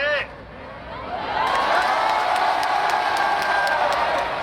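A large crowd of anti-extradition protesters in Hong Kong rises into a broad, continuous roar of many voices, loud and sustained, heard from within or near the gathering.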